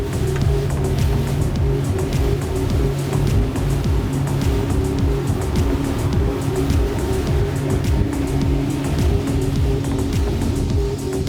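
Koshi 51 motor boat veering at about 64 mph with its engine at 4,400 RPM, a loud, steady low-pitched engine drone mixed with rushing water and hull spray, continuous and close throughout.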